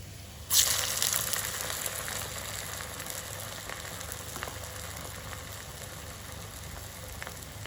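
Falafel balls drop into oil over a low simmer, setting off a sudden burst of crackling sizzle that settles into a steady, moderate hiss with no voices.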